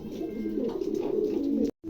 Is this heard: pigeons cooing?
yes